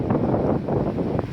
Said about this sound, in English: Really gusty and windy out there.